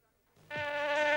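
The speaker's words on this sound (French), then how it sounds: "ne tuez plus les moustiques avec des claques sur vos joues" A mosquito in a 1970s-style insecticide advert, heard as a close, loud, steady high-pitched whine that swells in and sustains alone to the end.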